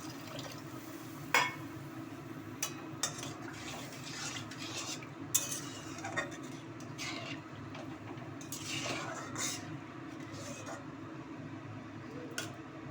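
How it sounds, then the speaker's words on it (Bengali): A utensil scrapes and clinks in a pan while fish curry with jaggery is stirred in a Bengali kitchen, with irregular metallic taps over a low steady background hum. "গুড় দিয়ে নাড়াচাড়া করে দেবো।"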